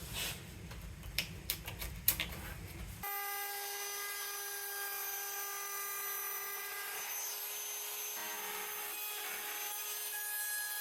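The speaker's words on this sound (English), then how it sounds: "So time to bail and go to the router." A handheld router trims edge banding on plywood frames, opening with a few sharp scraping hits before a steady high whine cuts through wood and runs continuously, its pitch dipping briefly partway through.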